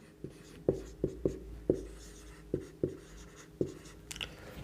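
Pen writing labels of rib types on a human skeleton bone diagram, heard as a series of about eight sharp, close strokes and taps at uneven intervals, then a brief scratchy scribble at the end.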